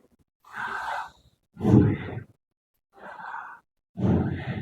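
A voice imitates breathing with four separate breathy exhalations, each about half a second long, with short silent gaps between them. The sounds are close and moderately loud.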